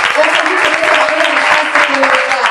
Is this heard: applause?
yes